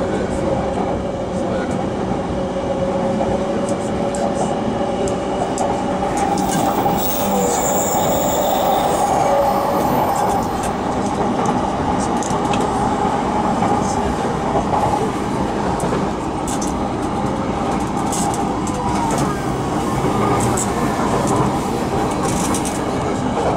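A JR Keihin-Tohoku line rapid train in Tokyo runs between Oji and Ueno, with a steady rolling rumble, wheel clatter and faint squeals heard continuously from on board.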